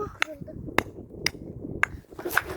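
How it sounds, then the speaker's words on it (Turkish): A hammer strikes and cracks something at a campsite, four or five sharp, separate metallic hits spaced about half a second apart, with children talking and chattering under and between the blows. "Bak çekiç ses çıkartıyor."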